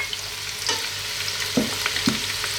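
Sweet potato chunks drop with soft thuds into a steadily sizzling soup pot, two distinct plops rising over continuous close frying noise.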